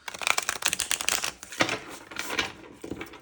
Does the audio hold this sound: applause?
no